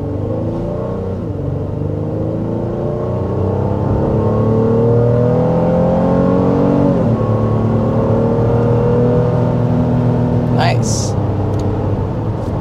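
Heard from inside the cabin, a 2024 Honda Pilot SUV's engine revs steadily higher as it accelerates hard, drops briefly at a gear change and then climbs again, with a constant road roar beneath it.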